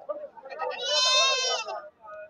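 Goats, including billy goats, bleat at a goat market in Kadiri. A long, loud, wavering bleat rises near the middle with shorter calls around it, and voices can be heard nearby.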